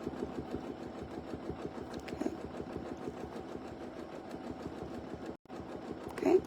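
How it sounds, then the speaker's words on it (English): A sewing machine stitches dense micro quilting at speed, a steady rapid mechanical whirr and needle patter close by that runs continuously, briefly cuts out near the end, then resumes. "don't be afraid of a little bit of speed here"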